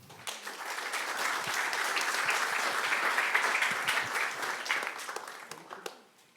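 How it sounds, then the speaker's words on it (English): A crowd applauds steadily, dense clapping swelling quickly and holding for several seconds before tapering off. "So Renaldas, let's give him a round of applause."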